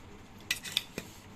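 Capsicum and potato fry served with a small spoon, a few quick metallic clinks and taps of spoon on dish, close and quiet.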